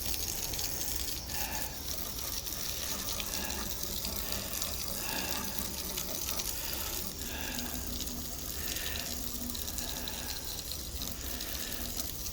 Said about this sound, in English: What I might do is give them all a bit of a wash down anyway.